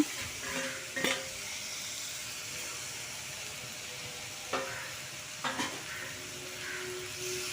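Onions and tomato frying in a pan for a Tamil sardine curry, a low steady sizzle broken by a few scraping stirs of the spoon against the pan.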